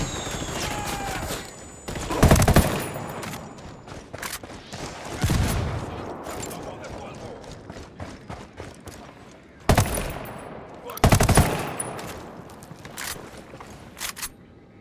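Gunfire in Ghost Recon Wildlands: loud bursts and volleys of automatic fire come in several clusters with quieter crackles between them, layered over background game noise.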